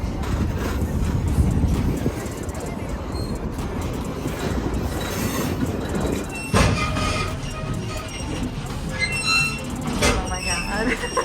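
A train rumbles along the rails with a constant clatter and occasional wheel squeals, while people talk in the background; it runs near the I-5 freeway and the Sacramento River.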